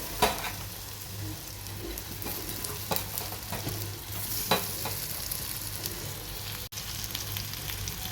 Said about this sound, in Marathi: त्यानंतर लाल तिखट त्यानंतर भाजून घेतलेली कारली घालूया